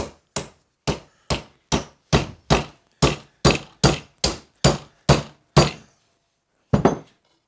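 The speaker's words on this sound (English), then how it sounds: "So I'm going to grab my hammer." A steady series of sharp metallic hammer blows driving a steel key into an Iron City post vise, about a dozen evenly spaced strikes, then a pause and one final hit, close and loud.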